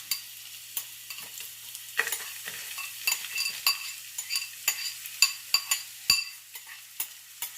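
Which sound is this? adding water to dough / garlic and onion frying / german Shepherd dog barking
garlic and onion frying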